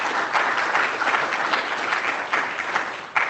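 Audience applause welcoming a science panel on herd immunity: a full, continuous burst of clapping from a crowd, close and fairly loud, ending with a few trailing claps.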